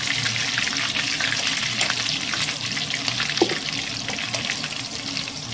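Ginger and garlic sizzle in a pan for a paneer masala, a close, steady frying hiss that holds even and unbroken with no talk.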